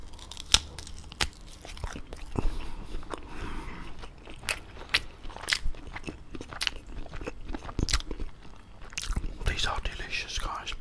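Sausages and fries are eaten up close, with crisp bites, crunches and wet chewing repeating at an irregular pace at low volume, mixed with faint whispering.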